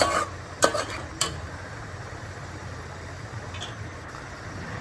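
Misal masala and finely chopped tomato stirred in a pan, with a soft steady sizzle and two sharp scraping clinks of a spoon against the pan early on, otherwise a quiet continuous cooking hiss.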